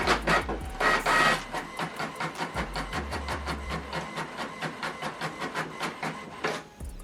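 A printer runs through a double-sided black-and-white print job, with rhythmic mechanical clatter and repeated feeding pulses, starting with louder paper-handling bursts before settling into a steady cycle.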